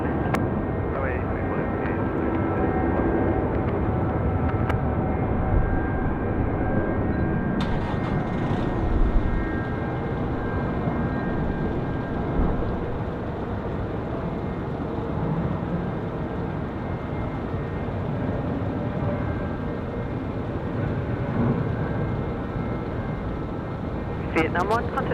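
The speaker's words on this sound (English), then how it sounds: "I tell you what, that was the longest takeoff roll" A Vietnamese presidential aircraft makes its takeoff roll at Sydney Airport, a steady, loud jet roar that holds level for the whole stretch while radio chatter and voices talk over it.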